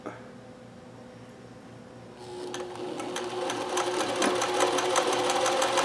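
A Consew CN2053R-1A industrial sewing machine doing free motion fill stitch starts after a quiet hum, then runs in a fast steady whir with rapid needle ticks, close and moderately loud.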